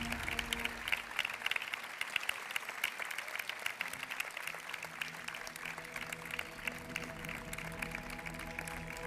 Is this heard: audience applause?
yes